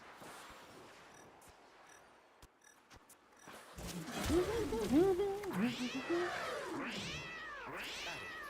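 Cats meow and caterwaul in a video game, several rising and falling wails layered together after a quieter stretch of faint clicks, fairly loud and close.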